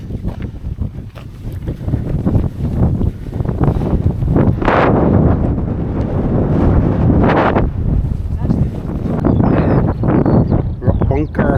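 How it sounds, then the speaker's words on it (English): Wind gusts buffet the microphone at a hillside wild camp in the hills, a loud continuous rumble that swells and eases throughout, with people talking underneath. "Windy, but nice."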